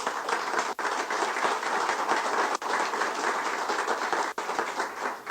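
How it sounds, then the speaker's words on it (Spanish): An audience at a democratic dialogue event in Mexico gives sustained applause, dense steady clapping filling the room for several seconds without speech. "la magistrada María Silva Rojas, para quien también suplicamos un fuerte aplauso."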